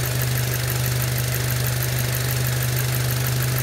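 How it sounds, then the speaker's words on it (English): Radiator cooling fans on a Volkswagen or Audi run during a fan test, giving a steady close whirring rush over a strong low electric hum, with no speech. "now we'll start pulsing the fans up and down, going up from a low speed to a high speed"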